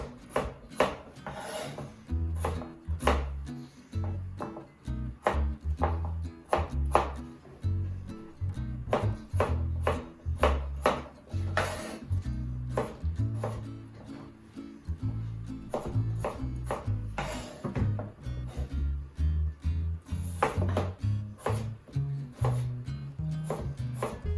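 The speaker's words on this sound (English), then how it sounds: "I'm going to cut them into about 1/2 inch dice." Steady rhythmic knife chopping as potatoes are diced into half-inch cubes on a wooden board, quick repeated cuts continuing throughout at close range.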